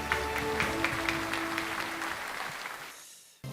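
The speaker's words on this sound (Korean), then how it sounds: "네, 큰 박수 부탁드립니다." An audience at a business award convention and leaders' meeting breaks into applause, a dense and steady burst of clapping that tapers off after about three seconds.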